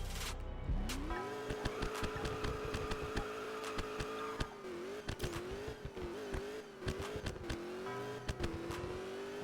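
A Corvette C7 Z06 with a supercharger launches hard, its engine roaring up through a steady climbing note and pulling through gear changes, loud and close with no voices.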